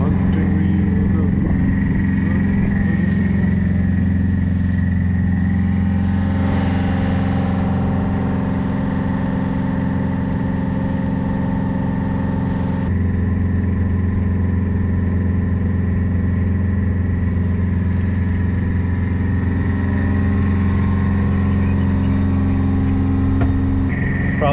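Close, loud boat engine exhaust drones steadily while sailing at sea near the 49th parallel, a continuous low rumble with slight shifts in tone partway through.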